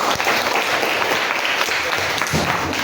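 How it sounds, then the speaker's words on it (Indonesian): A classroom of students claps together for everyone, a loud, dense burst of applause filling the room from start to finish with scattered voices mixed in. "Tepuk tangan untuk semua."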